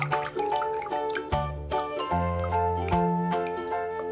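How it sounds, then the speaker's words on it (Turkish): Water drips and trickles from an orchid pot with bark potting medium as it is lifted out of a water bath, a close run of small drops and tinkly splashes with a faint ringing tone underneath. "ben saksımı suyun içerisinden alacağım"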